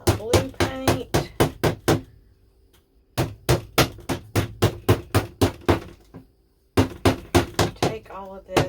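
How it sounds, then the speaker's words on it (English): Hammer blows tapping lids onto paint pails in quick, steady bursts of sharp metallic knocks, with a pause between runs of strikes, close by. "let me go get a hammer. I need to put these lids a little bit tighter on these paint pails"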